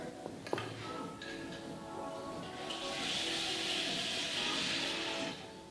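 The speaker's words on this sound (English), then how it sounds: "So I'm filling all these about halfway with water." Water running from a tap into dyeing containers, each filled about halfway, a steady hiss that builds in the second half after a few clinks, moderately close with no talk.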